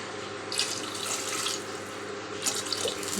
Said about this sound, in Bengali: এইটা জল দিয়ে দেবো